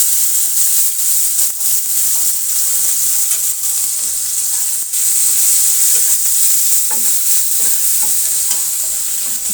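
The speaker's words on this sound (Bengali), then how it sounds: "ওই তেলের মধ্যে কিছুটা পেঁয়াজ কুচি দিয়ে দিব," Chopped onions fry in hot oil with cardamom and cinnamon, making a loud, steady sizzle and crackle with occasional stirring scrapes and no talk.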